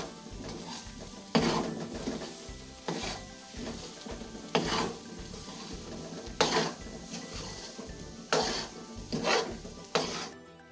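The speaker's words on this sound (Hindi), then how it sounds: "इसे भी हम अच्छे से भून लेंगे 2 से 3 मिनट के लिए, इसे भी अच्छे से भून लेंगे।" Dry milk powder and semolina are roasted in a pan and stirred with cardamom, each sweep of the spoon producing a gritty scrape, repeated in a slow, regular rhythm with brief quiet gaps between strokes.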